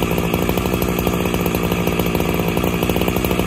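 A Husqvarna 365SP chainsaw cutting through dry oak, its engine screaming at high revs in a loud, steady, close drone with a rapid rhythmic chatter from the chain biting wood.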